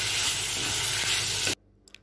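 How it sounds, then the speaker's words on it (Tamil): Tomato sautéing in a pan for paneer kuruma with onion, coconut and cashew, a steady loud sizzle and hiss that cuts off abruptly, leaving near silence with a couple of faint clicks. "இந்த சமயத்தில் நான் ஒரு தக்காளி பழத்தை சேர்த்துக்கிறேன். தக்காளி பழம் சேர்த்து இதையும் நல்லா வதக்கி விட்டுக்கலாம்."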